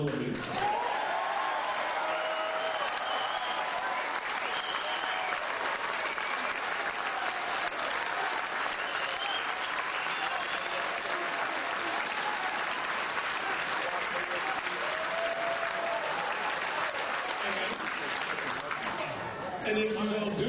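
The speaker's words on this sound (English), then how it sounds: "he got that crowd whooping and hollering and laughing" A television studio crowd breaks into sustained applause with whoops and cheers, a dense continuous roar of clapping that stays loud for the full stretch before tapering at the very end.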